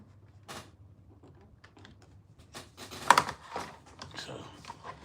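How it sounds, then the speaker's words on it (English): Rapid, uneven clacking of keys on a cheap, poorly built computer keyboard during a live beat-making session, with a louder burst of strokes midway over a low background hum. "This is the worstest keyboard of mankind"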